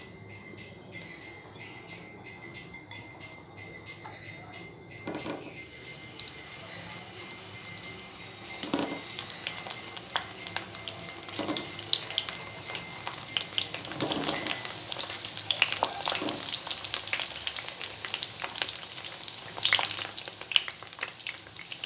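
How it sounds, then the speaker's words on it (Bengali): Eggplant pieces frying lightly in a few spoonfuls of oil in a hot pan, a steady crackling sizzle that grows busier and louder over time, with occasional utensil clinks and no voices. "আমি বেগুনগুলো হালকা করে ভেজে নেব।"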